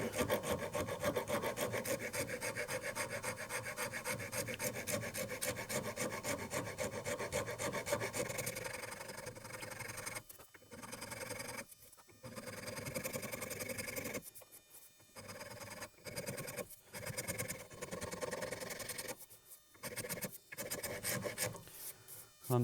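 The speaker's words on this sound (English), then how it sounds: "So I'm going to use this rasp and just" A hand rasp files the handle of a Damascus integral knife, first as continuous rapid scratchy strokes, then as separate rhythmic passes broken by brief pauses, loud and close with no talking.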